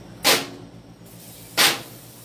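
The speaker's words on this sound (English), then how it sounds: "We're going to spray this off." Two short hissing bursts from a handheld spray bottle used while cooking breakfast, about a second apart, close and sharp with no talk.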